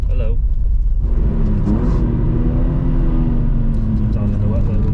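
Naturally aspirated Toyota Supra with individual throttle bodies on a wet Oulton Park trackday, heard from inside as a loud, deep engine drone that climbs in pitch under acceleration, with people talking over it.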